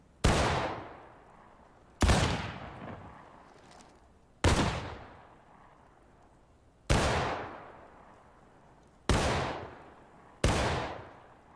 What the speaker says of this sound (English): Ripple fire from right to left, 3-second intervals.